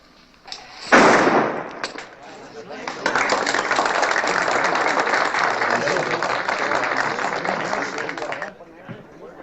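Gunfire from full-load cartridges at a western show starts with a sharp burst, followed by a long crackling, applause-like roar of sustained noise lasting several seconds, loud and fairly close.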